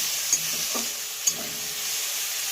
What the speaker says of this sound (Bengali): আমি এখন ভালো করে ভেজে নেব। তার জন্য হলুদ গুঁড়ো লাগছে, লঙ্কার গুঁড়ো আর লবণ